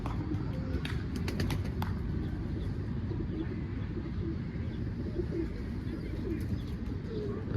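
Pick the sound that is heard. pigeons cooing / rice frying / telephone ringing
pigeons cooing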